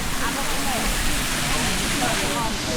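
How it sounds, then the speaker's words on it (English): A small waterfall beside a hiking trail gives a steady, close broadband rush of falling water, constant in level with no other clear sounds. "Nice little waterfall there."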